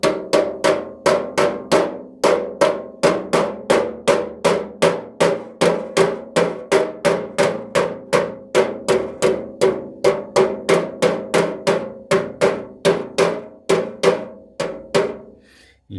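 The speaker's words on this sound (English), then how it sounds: "I'm hammering lightly with a very small hammer because this is some fairly lightweight sheet metal" A very small hammer taps a dent out of lightweight sheet metal on a camp stove, struck against a dolly held behind it. The ringing metallic blows come in a steady, even rhythm, each one close and clear, with no talking.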